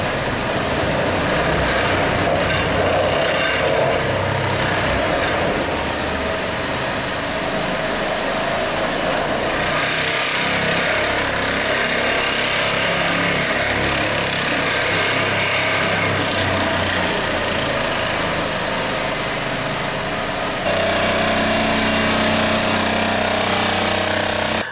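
Heavy machinery working to pull a cut, stuck steel sheet pile at a construction site produces a loud, continuous, harsh hammering and engine roar that barely changes and drops slightly near the end.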